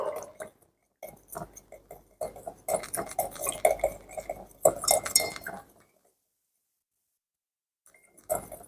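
Stirring sodium chloride into water to dissolve it: a utensil clinks and scrapes rhythmically against a glass container in a run of light repeated taps, stopping into silence, then one more brief clink at the end.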